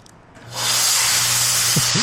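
A spray bottle mists fog solution onto a ceramic tint film on a windshield in one long, close, loud hiss lasting almost two seconds after a brief quiet start.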